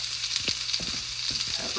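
Vegetables sautéing in hot oil in a pan, a steady close sizzle with a few soft stirring scrapes on top.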